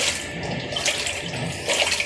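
A Sharp automatic washing machine agitates its wash load, with water sloshing and churning loudly and steadily at close range.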